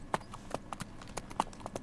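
Horse hooves clip-clop in Farming Simulator 17 as the horse is ridden, a quiet, steady walking rhythm of distinct knocks, about eight or nine in under two seconds.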